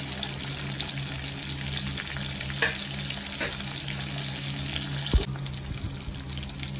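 Green chilies and curry leaves fry in hot oil in a pan for a potato masala curry served with puri, making a steady close sizzle throughout with a short clatter near the end.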